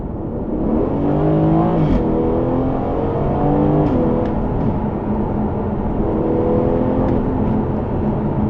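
Aston Martin Vantage engine pulling hard around a bend, a loud steady drone heard from inside the car that climbs and shifts in pitch through the gears, continuous for several seconds with no talk.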